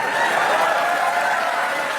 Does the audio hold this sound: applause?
yes